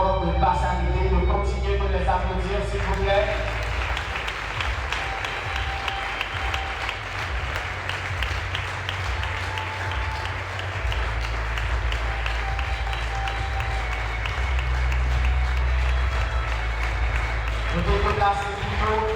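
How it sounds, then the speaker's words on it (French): Guests at a wedding ceremony keep up continuous applause for nearly twenty seconds, a steady wash of clapping under low, droning music, with a voice speaking at the start and end. "de continuer de les applaudir, s'il vous plaît"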